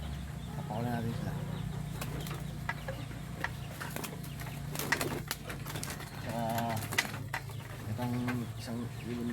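Pigeons coo in a repeated series of soft, throaty calls. Other bird sounds and low background noise run underneath.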